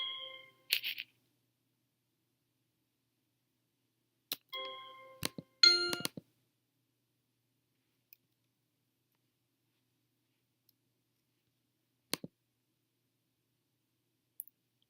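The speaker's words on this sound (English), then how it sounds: "the toy xylophone associates each color with a sound" A toy xylophone is struck in short bursts of bright, ringing metallic notes, with a few quick clusters early on, long silent gaps between them, and a couple of lone soft taps near the end.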